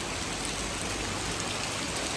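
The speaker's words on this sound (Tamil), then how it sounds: "செம்ம மழை பெய்யுது." Heavy rain pours down without a break on a night in Goa, a dense, loud, even wash of close-up downpour with no voices.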